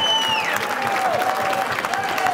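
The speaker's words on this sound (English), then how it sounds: "Let's have a big round of applause" Round of applause from diners at a high school athletic hall of fame dinner, sustained even clapping filling the room, with light cheering mixed in.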